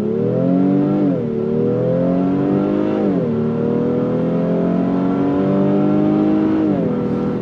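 A 2025 Honda Pilot Black Edition SUV with a 10-speed transmission accelerating under throttle from inside the cabin, its engine climbing in pitch and dipping at each of several upshifts in a loud continuous drone.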